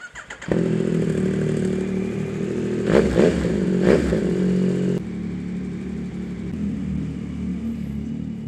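A Yamaha XSR900 motorcycle engine cold-starts and idles with a steady low rumble, with a couple of brief revs partway through before settling back to idle.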